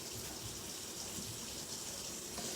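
Cold tap water runs steadily into a kitchen sink over vegetables during Thanksgiving cooking prep, a continuous close splashing gush with no talk.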